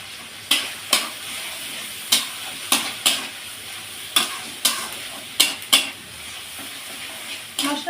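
Meat spice paste with salt and turmeric is stir-fried in a pan, a constant sizzle broken by about a dozen sharp, evenly spaced scrapes and knocks of the spatula against the pan, with no voices.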